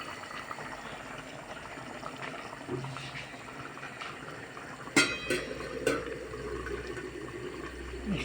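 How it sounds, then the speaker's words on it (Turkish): Steady bubbling and hissing of an eggplant stew and menemen simmering on the stove, a low continuous churn with a few sharp clinks near the end. "Yemeğimi kontrol ediyorum. Güzel güzel kaynıyor."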